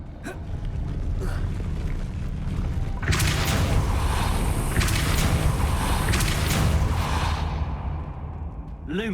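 A Depulso spell cast in Hogwarts Legacy lands as a sudden whooshing, booming surge over a steady game backdrop, holding for a few seconds before tailing off, with a rising magical tone around it.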